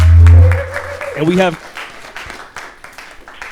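Applause rises from an audience at a heritage-month community event celebrating Puerto Rican culture, a broad wash of clapping after a loud opening, mixed with talk and a sung or spoken phrase over it.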